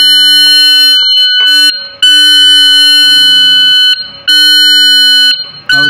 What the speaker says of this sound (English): This transfers to the first alarm stage.